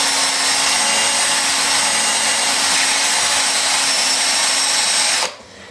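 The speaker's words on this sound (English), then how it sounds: "So I'm going to sand it. It is going to be by hand, but when I say by hand, I just mean with the tool" Hand-held power sander working a wet yellow birch bowl on a stopped lathe: a steady, loud, continuous whirring hiss that runs unbroken for over five seconds, then cuts off abruptly near the end.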